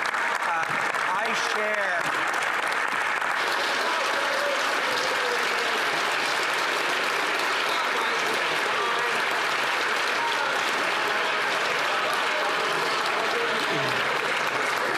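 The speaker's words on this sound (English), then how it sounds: "I've never had that much applause, Mr. Speaker, in the House before" Members of the House of Commons applaud during Question Period, sustained clapping and desk-thumping filling the chamber while a voice speaks over it.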